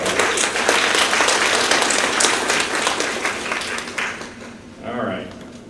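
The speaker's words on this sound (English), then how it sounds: "Another round of applause." Workplace celebration audience breaks into a round of applause, a full, steady burst of many hands clapping that fades out after about four seconds, after which a voice starts speaking.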